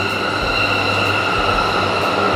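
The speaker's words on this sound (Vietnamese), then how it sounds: "hình như sắp có tàu điện chạy qua" Electric train rolling past on a Tokyo railway line, a loud continuous rumble with rhythmic wheel clatter and a faint squeal, heard up close from a small street beside the tracks.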